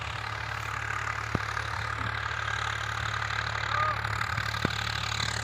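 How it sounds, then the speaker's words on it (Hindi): A tractor engine idles steadily in a farm field, a low mid-distance hum with a couple of faint clicks, fairly quiet with outdoor background noise. "अभी देखिए ट्रैक्टर चल रहा है अभी"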